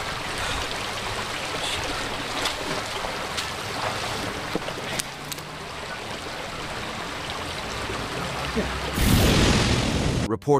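Creek water streams steadily in a continuous broadband rush, close and moderately loud, with a brief louder splash near the end.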